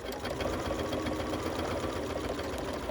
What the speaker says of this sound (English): I'm going to stitch, and I'm starting off with just a little kind of a S-curve type of stitch.